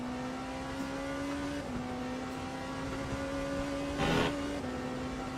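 A WEC endurance racing video game car holds a steady, buzzing engine note with small gear-change dips while a BMW follows closely. A short burst of noise rises about four seconds in.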